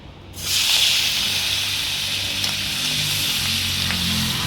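Prawns frying in hot oil in a pan on a lowered flame give a loud, steady hiss that starts abruptly and holds evenly throughout, with no talking.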